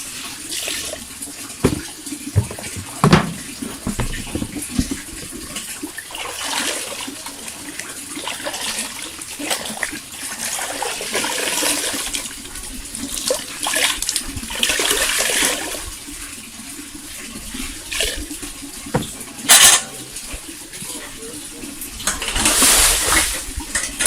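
Fresh cheese curds and whey poured from a basin into damp cloth bags during traditional homemade cheese making, giving a continuous splashing, gurgling wash of liquid with intermittent louder sloshes.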